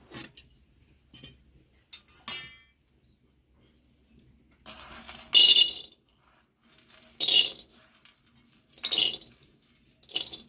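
Peanuts roasting in a pan over a wood-fired chulha: sparse metallic rattles and clinks in scattered bursts as the nuts are stirred and tossed, fairly close, with quiet gaps between.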